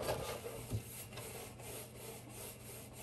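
Dark wax being rubbed over the raised detail of a stamped sunflower design, a steady close scratchy brushing texture that continues throughout, with one brief knock partway through.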